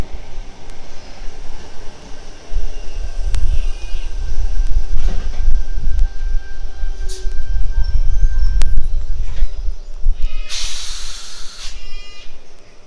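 A commuter train rumbles into the platform at Oatley station with low mechanical noise and a steady hiss, a brief high-pitched burst near the end, with no talking.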